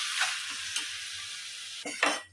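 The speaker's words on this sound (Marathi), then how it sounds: "सगळं याच्यामध्ये आपण मिक्स करायचं आणि छानपैकी परतून घ्यायचं" Curd rice mixed with chaat masala being sautéed in a pan, a moderate hiss with a few spoon scrapes and light clinks against the pan.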